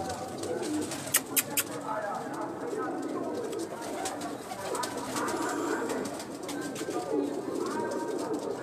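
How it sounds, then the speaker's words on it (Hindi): Pigeons coo repeatedly in soft, throaty bursts on a rooftop amid a busy background of other birds and faint chatter, with a few sharp clicks. "ये मेरा शौक वाला कबूतर"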